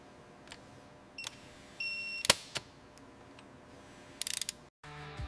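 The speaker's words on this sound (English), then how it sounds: "Tightening the cylinder head bolts with a digital torque wrench." A digital torque wrench tightens cylinder head bolts on a motorcycle engine being rebuilt into a BMW R18. Quiet, sparse ratchet clicks and a short electronic beep lead into a quick burst of rapid clicks near the end, with no talking.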